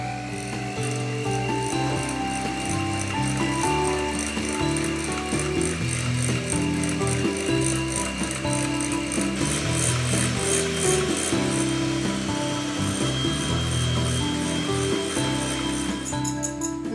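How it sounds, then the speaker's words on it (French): An electric whisk beats three eggs with sugar for macaron batter, its motor whining in a steady buzzing tone that shifts pitch slightly as it works, loud and close with no speech. "que je bats au fouet électrique."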